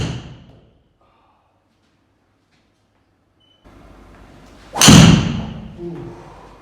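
A Cleveland Launch XL driver strikes a golf ball in one sharp, loud crack that rings briefly and fades, following a near-silent pause.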